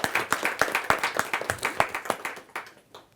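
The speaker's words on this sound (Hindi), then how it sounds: "जोरदार तालियों के साथ हम उनका स्वागत करें" Rhythmic clapping from an audience welcoming a poet and literary figure at a Hindi poetry gathering, with steady synchronized claps close by, gradually thinning out toward the end.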